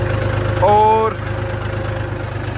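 A tractor engine idles with a steady low rumble and rapid regular pulsing, briefly joined by a tonal whine; a voice speaks over it.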